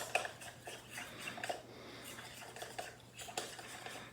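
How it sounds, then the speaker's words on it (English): Raspberry cookie ingredients are mixed in a bowl with a utensil, producing soft, faint clinks and scrapes at an uneven pace over a low steady hum, with no speech. "We're gonna mix it up like this."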